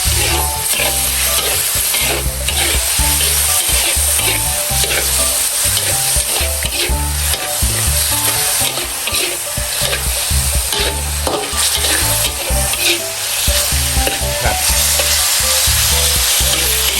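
Chicken offal stir-fries with fish sauce in a hot pan, a loud continuous sizzle with constant rhythmic scraping and clattering of the utensil, close up and with no voices.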